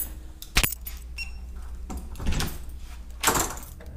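Keys jangle and doors are unlocked and swung open at an aviation maintenance school: a sharp metallic clack, then scattered rattles and two louder bursts of jangling and door movement, close by.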